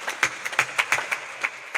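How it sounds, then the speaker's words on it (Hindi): Scattered hand claps from a small group at a Navratri devotional gathering, uneven and fairly light, rising and falling in brief bursts rather than a sustained ovation. "हनुमान जी महाराज को तालियां बजाकर खूब धन्यवाद देते हैं"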